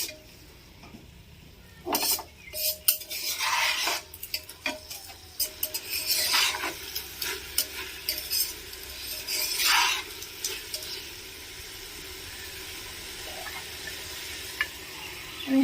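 Rice being stirred in a pot while cooking veg pulao, with scraping spoon strokes and clinks of utensil on metal, light sizzling underneath, irregular bursts of activity then quieter stretches.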